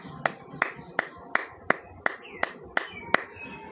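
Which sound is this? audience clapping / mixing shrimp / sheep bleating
audience clapping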